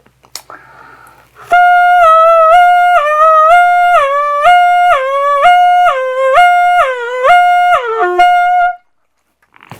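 A saxophone works through a flexibility exercise: repeated short phrases that slide down and back up in pitch, played alone and close.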